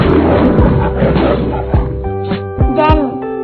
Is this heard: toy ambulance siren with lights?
no